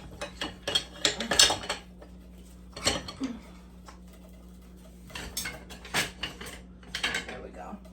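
Kitchen utensils clatter as someone rummages through them to pick a wooden spoon, with clusters of metallic clinks and knocks in several bursts separated by brief pauses over a low hum.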